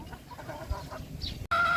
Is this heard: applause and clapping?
no